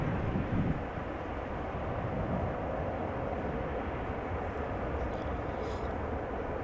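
A Transavia airliner rumbles at Amsterdam Schiphol Airport as a steady, broad engine roar heard from a distance, mixed with some wind buffeting on the microphone.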